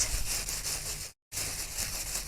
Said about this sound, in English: I'm just taking a sanding block here, and I'm just using the full surface of it